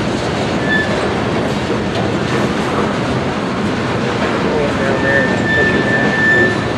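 A Union Pacific freight train arrives at Denver North Yard with a loud, continuous rumble of rolling railcars, clattering wheels and faint squeals, close by the whole time.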